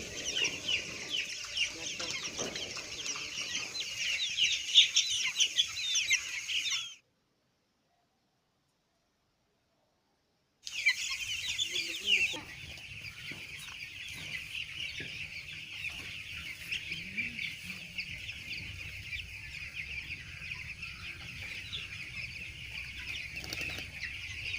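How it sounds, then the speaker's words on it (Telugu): Young chicks peep continuously at a village coop, with chickens clucking now and then and a wing flap. The sound is fairly faint, drops to silence for a few seconds, and then resumes. "మేము కోడి పిల్లల దగ్గరికి వెళ్ళాం"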